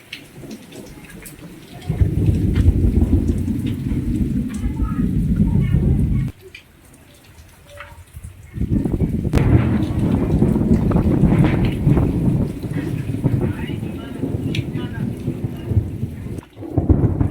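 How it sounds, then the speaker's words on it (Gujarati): Heavy rain pours steadily in a Gujarati village with deep rumbling thunder and lightning, broken by a short lull before the downpour resumes just as loud. "ગાજે ને બહુ વીજળી થાય ને ગાજે વરસાદ બહુ નથી આવતો"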